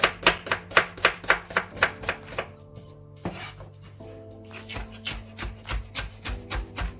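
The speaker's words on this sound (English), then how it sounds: "The onions, I'm just gonna chop them like this." Onions being chopped on a board for traditional Transylvanian goulash, a quick series of sharp, close knife strikes in a steady rhythm that slows into scattered cuts, with no talking.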